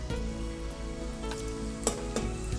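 Curry leaves frying in hot oil for paaya, a steady close sizzle and crackle running throughout with a couple of sharper pops near the end, no voices.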